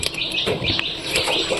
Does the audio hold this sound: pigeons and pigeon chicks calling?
yes